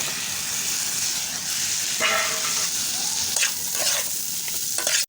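Fried potato and cauliflower stirred into a pan of frying spice masala: a steady close sizzle runs throughout, broken by several scraping stirs of a spoon, ending abruptly.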